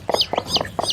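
An Aseel hen clucks softly over her newly hatched chicks gathered beneath her, four short close clucks in quick succession.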